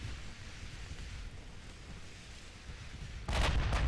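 Warship guns firing in the naval game Ultimate Admiral Dreadnoughts: a low rumbling wash of sea and wind, then a sudden loud blast near the end with a short burst of follow-up booms.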